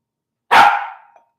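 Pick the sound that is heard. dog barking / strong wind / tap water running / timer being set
dog barking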